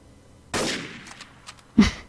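AWP sniper rifle shots in Garry's Mod Trouble in Terrorist Town, two sharp loud cracks with some quieter pops between them, no talking.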